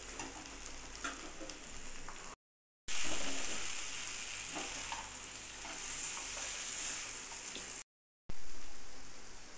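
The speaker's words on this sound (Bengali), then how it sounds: "এইবার কাঁকড়াগুলোকেও দিয়ে দিতে হবে। একইভাবে কাঁকড়াগুলোকেও মিনিট খানেক মতন কষিয়ে নিতে হবে।" Crabs fry with spiced potatoes and onions, a strong close sizzle with stirring scrapes that runs steadily, broken by two short silent gaps.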